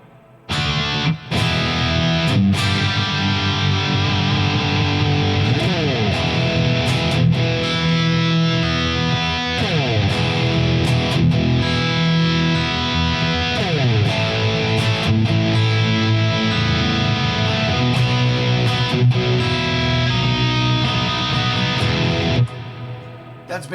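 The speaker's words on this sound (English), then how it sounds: "you hear already the big reverb, and that's indeed the Stratocumulus on 17 seconds" Electric guitar played through a Fractal FM9 into a JMP OD1 amp model with a huge Stratocumulus reverb, sustained distorted chords and melodic lines ringing loud and continuous for about twenty seconds before cutting off, no voice.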